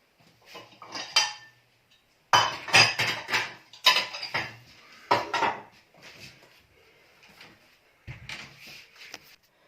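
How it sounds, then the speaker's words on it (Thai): Dishes and cutlery clatter in bursts as plates are lifted out of a dishwasher and set down, with clinking pauses between handling, close by and fairly loud. "เอา ไอ จานออกจากเครื่องก่อนนะคะเพราะว่า เพิ่งล้างไปเมื่อวานเนาะ"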